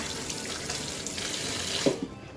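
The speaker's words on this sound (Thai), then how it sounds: "เสร็จแล้วก็รดน้ำค่ะ รดน้ำให้ชุ่มนะคะ" Water is poured over bean sprouts being grown at home to soak them, a steady close splashing trickle with a brief louder gush near the end, no talking.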